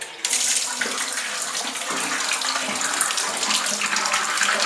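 Water gushing steadily into a bathtub with an open drain during a Ridgid Power Clear drain-cleaning test, a loud continuous rushing that starts abruptly and runs throughout, with one brief spoken word near the start.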